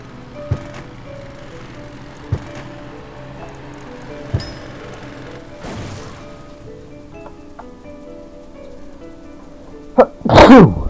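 A single loud, sharp sneeze bursts out close to the microphone near the end, after a stretch of quiet background ticks and faint tonal hum.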